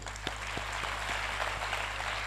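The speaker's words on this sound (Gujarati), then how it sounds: "આ એક વાત માટે કેતનભાઈ માટે જોરદાર તાળીઓ પાડો." Seminar audience applauding, a dense continuous wash of clapping throughout with a few sharper individual claps standing out near the start, fairly distant and even.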